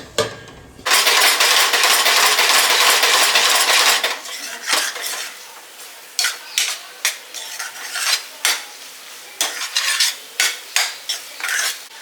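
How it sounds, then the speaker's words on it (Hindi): A metal spoon scrapes and clanks against a pan while a masala of ginger, garlic, onion and coconut fries in a little oil. A loud continuous sizzle with stirring leads into a run of rhythmic, repeated scraping strokes, close up, with no talk. "अब इसको पूरा मसाला हिला दिया है। अब ये पकेगा हमारा मसाले के साथ।"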